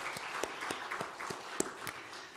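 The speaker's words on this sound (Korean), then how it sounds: "우리 사모님께 목사님께 우리 감사 박수 같이 하겠습니다." A congregation at a Korean church evening revival service claps in thanks, the applause rising in scattered, uneven claps that spread through the room at moderate volume.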